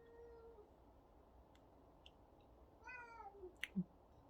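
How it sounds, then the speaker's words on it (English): A house cat meows a few times near the end, short soft calls over quiet room tone, with a louder final meow. "You can hear the cat."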